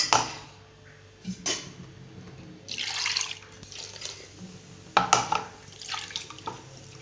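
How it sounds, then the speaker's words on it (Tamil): Water pours and splashes into a pot of curry in a few short bursts, with drips and clinks of utensils between them, close by and fairly quiet. "நமக்கு எவ்வளோ தண்ணி வேணுமோ தண்ணி சேர்த்து"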